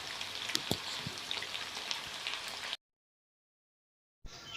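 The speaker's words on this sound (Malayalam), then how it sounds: "തിരിച്ചിട്ടും മീഡിയം ഫ്ലെയിമിൽ വേണം നമുക്ക് ചിക്കൻ വറുത്തെടുക്കാൻ." Chicken pieces frying in oil over a medium flame, a steady soft sizzle with scattered small pops and crackles, close and moderately quiet, cut off briefly by silence before resuming.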